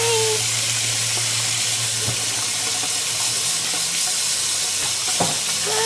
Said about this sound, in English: Splashing everywhere.